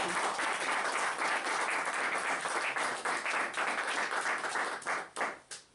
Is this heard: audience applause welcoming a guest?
yes